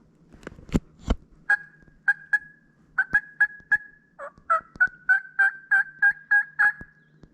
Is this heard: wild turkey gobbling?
yes